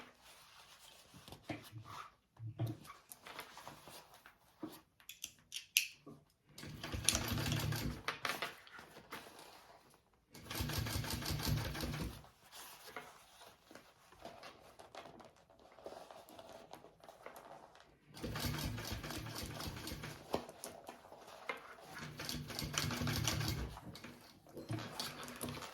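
A sewing machine stitches two fabric gusset pieces into a full circle for a crossbody bag. Several bursts of rapid mechanical stitching are separated by quiet pauses, moderately close.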